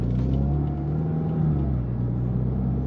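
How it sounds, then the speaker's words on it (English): Inside the cabin of a Mini Cooper S R56 fitted with an aftermarket Forge induction kit, a steady low engine drone and intake rumble hums continuously and fairly loud, with no talking. "This particular Mini has an aftermarket forged induction kit, so there's a lot more intake noise coming through the cabin"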